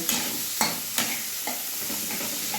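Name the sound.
onions frying and being stirred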